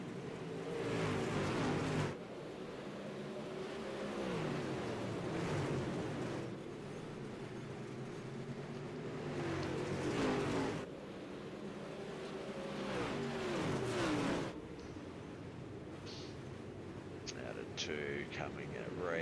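Dirt super late model cars in a sim racing game, engines droning and rising in pitch as they race down a backstretch, a continuous roar that swells and fades in waves under commentary.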